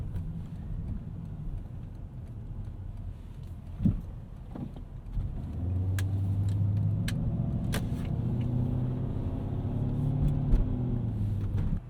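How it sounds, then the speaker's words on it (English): A 1998 Lexus GS 400 V8 starting up and running, a close deep rumble that settles into a steady idle with a couple of light knocks and clicks around it. "The mighty V8 comes back to life."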